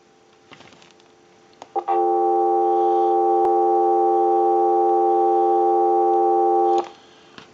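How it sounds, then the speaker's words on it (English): Steady electronic dial tone from a restored Stromberg Carlson candlestick telephone, starting after faint handling clicks and holding for about five seconds before cutting off. "give you some dial tone"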